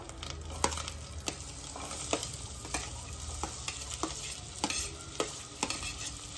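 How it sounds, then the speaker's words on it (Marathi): Finely chopped onion sautéing in oil on a tava over medium flame for tava pulao, a continuous close sizzle with regular scraping and tapping spatula strokes, no talking. "कांदा छान परतून घ्यायचा आहे।"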